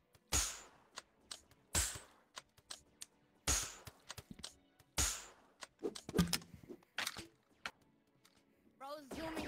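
Sharp pistol shots from the Rec Room video game: four crisp, loud cracks at irregular intervals, followed by scattered lighter clicks and thuds, with brief voice sounds near the end.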